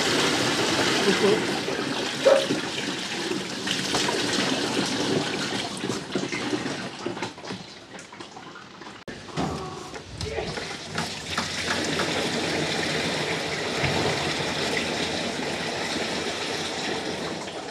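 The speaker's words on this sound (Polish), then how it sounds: "Właśnie będziemy nalewać syrop i jedziemy lać" Sugar syrup pours into bee feeders as a steady liquid rush that runs for most of the stretch, with a brief lull partway and voices talking over it.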